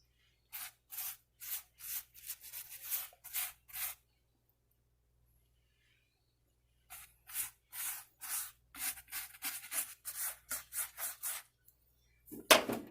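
A closed pizza brushed with pure butter is cut into pieces, giving a run of short, crisp crunching strokes in two bursts separated by a quiet pause, close and fairly soft, with no talking.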